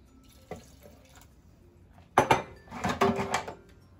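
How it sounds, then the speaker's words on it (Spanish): Water poured from a cup for cucumber and lime agua fresca, a close splashing stream lasting about a second and a half, after a brief earlier clink and drip. "aquí usé otras 4 tazas de agua."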